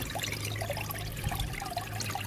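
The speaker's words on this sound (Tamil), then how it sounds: "இந்த வால்வு எவ்வளோ அட்ஜஸ்ட்மெண்ட் வேணுமோ அதுக்கு தகுந்த மாரி இங்கே தண்ணி ஊற்றும்" Water from an adjustable valve trickles and splashes steadily onto the pad of a homemade air cooler built from an old 20-liter bucket, a continuous close liquid wash with a low hum underneath.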